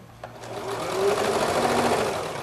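A sewing machine runs steadily and close while stitching over quilt block seams, a continuous mechanical whir that builds slightly in speed.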